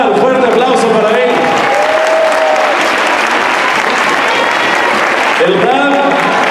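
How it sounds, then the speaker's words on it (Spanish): Loud, dense audience applause at a Shabbat Project meditation event in Mexico, sustained crowd clapping that fills the whole stretch, with a voice heard over it near the start and again at the end. "Fuerte aplauso para él."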